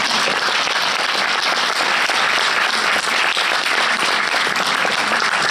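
Sustained applause from an audience at a film premiere, dense steady clapping at even loudness throughout with no voices rising above it.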